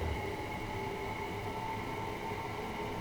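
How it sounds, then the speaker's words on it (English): Steady rail track noise inside the Train Sim World 2 video game on a London commuter line: a constant low rumble and hiss with faint tonal hum, with no talking. "you can hear the track noise"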